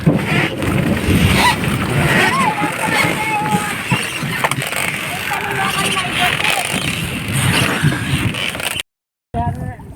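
Choppy sea water slaps and splashes against a boat amid strong wind and rain out at sea, with people talking over the rough waves throughout.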